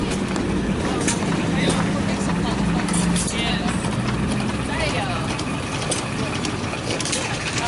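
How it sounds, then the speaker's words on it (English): An antique 1914 engine runs at a tractor show celebration, giving a steady, dense clattering mechanical noise with ratchet-like ticks, heard alongside crowd noise and voices. "And this little engine is from 1914."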